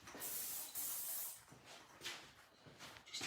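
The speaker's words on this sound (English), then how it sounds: "I'm just going to use a little gloss spray" Light gloss hair spray hissing from an aerosol can in a few short bursts, close and soft, with brief pauses between sprays.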